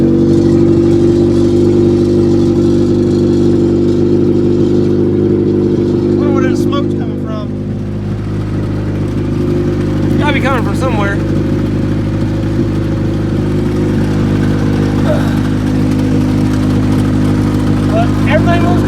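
A Toyota Wolverine engine with a carburetor problem idles a little high, giving a steady, loud, continuous hum throughout, with faint talk and a brief dip in level partway through.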